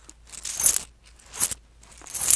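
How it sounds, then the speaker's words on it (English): Coins jingling inside a small coin purse, some older Irish coins from before the euro, shaken in three separate bursts of bright metallic clinking, close and fairly quiet with short pauses between. "This is coins in a coin purse."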